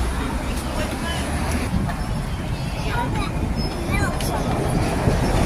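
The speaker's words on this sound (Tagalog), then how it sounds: "So, yan po yung tinatawag nilang tram dito sa Hong Kong." Hong Kong tram passing in the street: a steady low rumble with faint rail clatter and squeal amid traffic noise and crowd babble, with people talking nearby.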